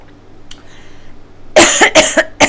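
A person coughs in a rapid burst of four or five loud, close hacks after a second or so of near-silence with only faint room noise.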